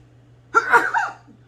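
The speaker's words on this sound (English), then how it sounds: "oh, I gotta sneeze. That pepper." A single sharp sneeze triggered by pepper in a home kitchen, close and loud, rising quickly and fading within about half a second.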